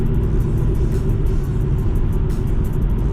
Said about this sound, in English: So far I do feel a difference going over this bumpy road.